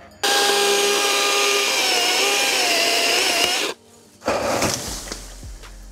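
A DeWalt DCM575 54V FlexVolt cordless chainsaw cuts through wood with a loud, steady electric whine and chain rasp for about three seconds. It stops briefly, then bites into the wood again with a rougher, slightly uneven cutting noise.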